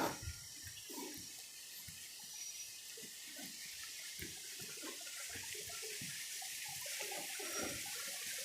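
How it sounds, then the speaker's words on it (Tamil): Continuous rushing water flowing across a road fills the clip with a steady hiss, with irregular low splashes and gurgles scattered throughout. "இந்த இடத்துல ரோடில் தண்ணி போகுது"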